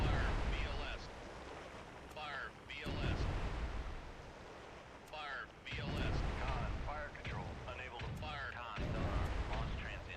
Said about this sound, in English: I launched a bunch of Launch transient from. anti-ship missiles and surface attack, as well as air attack missiles